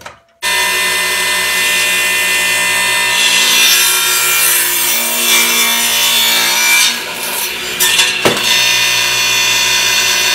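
A power saw set at 55 degrees whines loudly and continuously as it cuts wooden pieces for a geodesic dome, with a rough rasping edge and a brief dip near the end.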